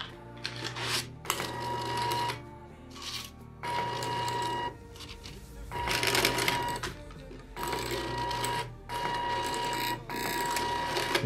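A homemade Arduino-driven stepper-motor cash dispenser pushing out banknotes: quiet, repeated bursts of buzzing, whirring motor drive with a steady tone, separated by short pauses, close by.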